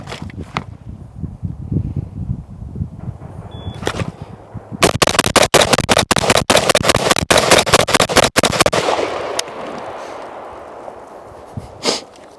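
An AR-15 rifle with a polymer lower receiver fires 20 rounds in a rapid, loud string of sharp close cracks. Quieter handling noise comes before and after the volley.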